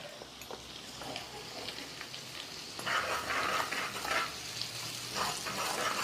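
Kashmiri red chili powder and turmeric roast in a pan with chili, ginger and garlic, giving a steady close sizzle with intermittent stirring scrapes that grow louder midway, no voices.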